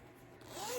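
Zipper on a handmade bag being pulled open: a single short rising zip, quiet and close, with no talk over it.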